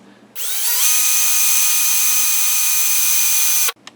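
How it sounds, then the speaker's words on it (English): A variable-speed power drill winding a wire coil whines up to a steady high-pitched spin, running loud and even for about three seconds before cutting off abruptly. "If you have a variable speed drill and are comfortable with going faster"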